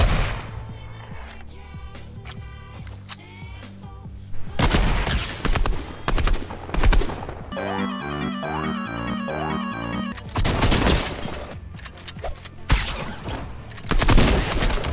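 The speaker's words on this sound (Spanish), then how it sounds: "Acá estuve escuchando disparos por todos lados" Gunfire in a battle royale video game: scattered bursts and rapid volleys of shots, some loud and close and others farther off, amid a busy, cluttered soundscape.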